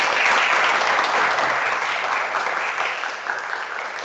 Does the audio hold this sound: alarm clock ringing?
no